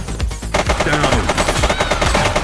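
Video game gunfire from The Precinct: loud, dense bursts of rapid automatic shots hammering almost continuously, close and forceful, with a brief quieter lead-in before the volley erupts.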